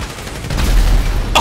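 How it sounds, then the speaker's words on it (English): A lock-on rocket launcher fires in GTA Online, giving a loud deep boom and rumbling burst at close range, followed by a short sharp higher crack near the end. "Lock-on rocket launcher."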